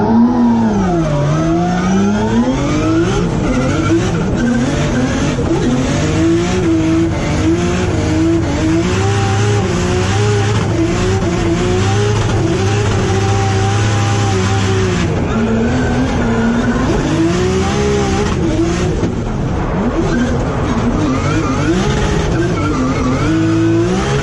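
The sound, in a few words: BMW E92 with 2JZ engine revving on limiter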